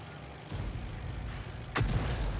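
Two muffled booms from tank gunfire in a video game, with a Panzer III and a Valiant medium tank in battle, sit over a low rumbling engine bed, the second shot louder than the first.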